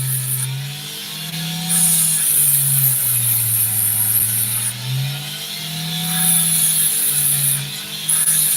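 A power tool whines steadily while polishing opal, its motor pitch rising and falling with pressure changes and a high hiss coming and going in bursts, close and loud, no talking.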